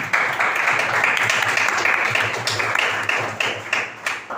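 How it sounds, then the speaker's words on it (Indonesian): An audience gives a steady round of clapping at a formal presentation session, dense and fairly close, tapering off toward the end. "Berikan aplaus."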